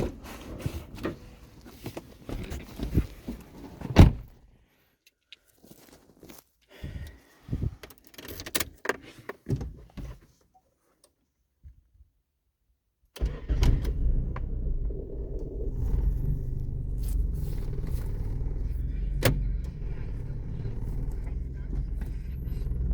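A 1998 Mazda 626 sedan is started after sitting unused for two days: clicks and handling noises, a pause, then the engine catches and settles into a steady, close idle rumble.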